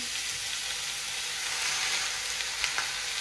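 Lamb pieces hiss and sizzle steadily as they are laid into a small hot tagine dish, a close, continuous frying crackle with a couple of brief sharper pops near the end.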